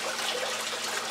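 Water flows evenly across a grease table used to recover diamonds from gravel, producing a steady, close splashing rush that falls off the table's edge, with no talking.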